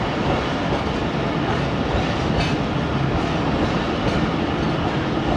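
Fareed Express passenger train running on rails through rural Punjab, a steady loud rumble with rhythmic clickety-clack of wheels heard from inside the carriage.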